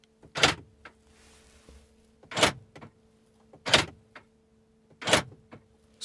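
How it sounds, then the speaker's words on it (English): Four loud mechanical clunks from the soft-close door mechanism of a 2020 Mercedes G63 AMG, spaced roughly every one and a half seconds, each a sharp latching thump over a faint steady hum. "Super loud closing mechanism. It's like loading a gun or something."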